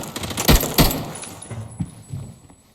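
Sniper rifle shots ring out in the shooter game Arena Breakout, two loud sharp cracks close together followed by fainter reports and rattling, with no talk over them.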